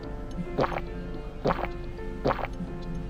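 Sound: water being poured into a glass at ramen shop

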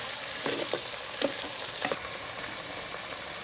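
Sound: anchovy fish curry ingredients sautéing in pan

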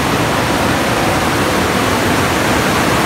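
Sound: river rapids (sula) on the Suriname River

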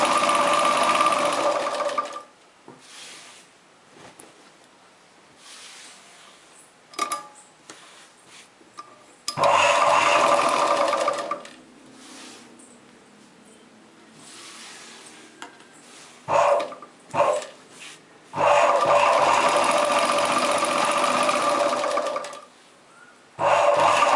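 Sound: sewing machine stitching chudidar top

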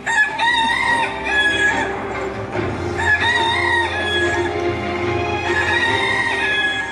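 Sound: rooster crowing

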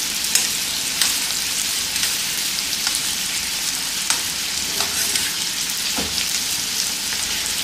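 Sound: butter melting and sizzling in a frying pan with shrimp

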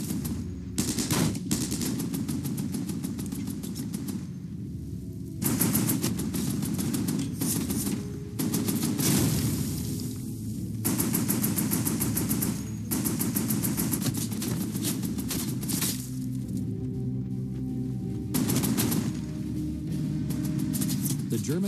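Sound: machine gun firing at German infantry

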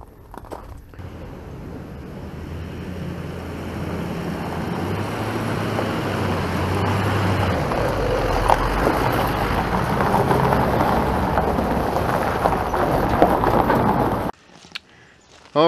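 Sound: vehicle towing an equipment trailer on a test run

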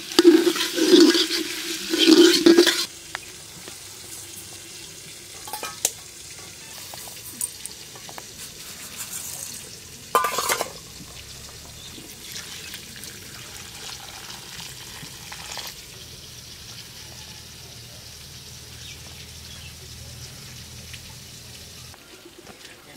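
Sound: potatoes and soybean chunks frying in oil

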